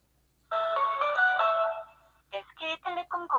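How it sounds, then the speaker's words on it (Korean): A KOSPET Tank T3 Ultra smartwatch plays an incoming-call ringtone, a bright melodic tune held for over a second, then a quick series of short chiming notes, clear and close. "탱크 T3 울트라에서도 한번 전화를 걸어볼까요?"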